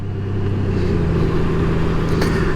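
A Honda Goldwing 1800 touring motorcycle engine rumbles steadily at a constant pace, a low continuous drone heard up close as the bike rides along back lanes.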